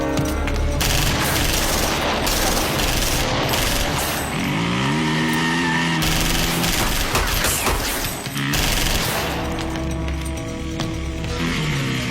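Bursts of gunfire crackle and boom almost nonstop, a dense, loud volley of shots with a rumbling mechanical drone underneath.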